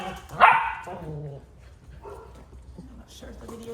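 Sheepadoodle puppies give one sharp, close bark followed by softer yips and whimpers, with a person talking over them throughout.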